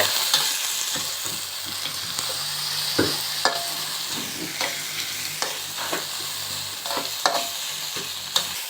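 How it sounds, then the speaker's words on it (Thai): Eel stir-fried with curry paste in a pan, a continuous close sizzle broken by repeated scraping and clattering strokes of the spatula. "เราก็ใส่นี่ครับปลาไหลที่เรา เตรียมไว้นะครับล้างทำความสะอาดเรียบร้อยแล้ว ใส่ลงไปผัดเลย"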